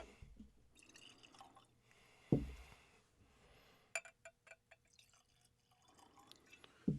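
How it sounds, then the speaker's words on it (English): High West whiskey poured into a pair of glasses, with a soft liquid trickle and a few light clinks and drips close by, broken into short separate bursts with quiet gaps between them. "I'll go ahead and get a couple pours going."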